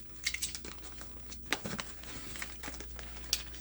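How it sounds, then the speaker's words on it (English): Adhesive tape is pulled and torn off a roll, giving faint, close crinkling and ripping bursts with a few sharper snaps in quiet surroundings. "I'm going to tape this across."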